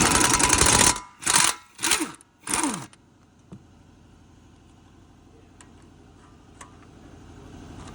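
A ratchet clicks in four short bursts on the caliper bracket bolts of a Jeep Compass during a driver-side axle job, followed by quiet workshop background with faint clinks.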